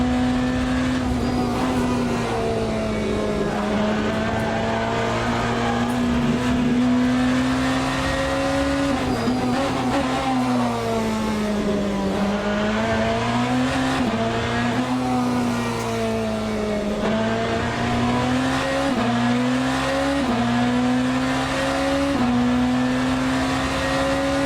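A hypercar in the video game Le Mans Ultimate at Sebring, its loud engine droning and rising and falling in pitch through gear changes and throttle lifts, with tyre noise underneath, steady and close for the whole stretch.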